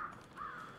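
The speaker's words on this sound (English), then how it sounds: "Birds." A crow cawing in the video game Hunt: Showdown: two faint, drawn-out caws close together against a quiet background, with no talk.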